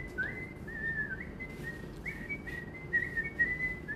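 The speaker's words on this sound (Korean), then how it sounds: "휘파람 한번 불어주세요" A person whistles a wavering, sliding tune, fairly quiet and close, in short phrases with breathy gaps over a low room hum, no one speaking.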